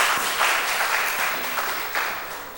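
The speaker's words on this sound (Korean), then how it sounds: "박수 한번 주시고요" Congregation clapping during a Sunday afternoon church service, a short, dense burst of applause from the seated crowd lasting a couple of seconds with a few louder claps standing out.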